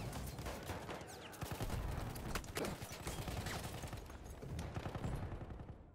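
Video game gunfire echoing down a hallway, with dense, overlapping bursts and scattered shots crackling on and off at a steady, fairly distant level throughout.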